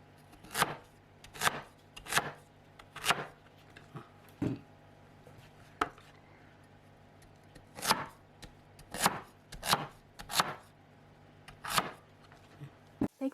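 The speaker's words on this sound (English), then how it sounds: "cut it in halves and cut slices of about the width of a finger" Kitchen knife slicing white radish on a cutting board, around a dozen crisp chops in irregular clusters, close and clear with quiet pauses between cuts.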